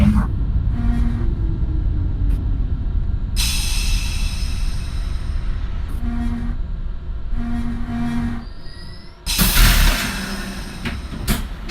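A simulated NYC Subway R62 train on the 3 line to New Lots Avenue in OpenBVE gives a continuous low rumble with humming motor tones and sudden bursts of hiss.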